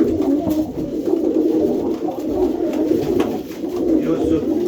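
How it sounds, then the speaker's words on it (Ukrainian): Pigeons cooing in a steady, close, continuous murmur with overlapping soft coos, with faint human voices in the background. "Ну той голубець красавчик."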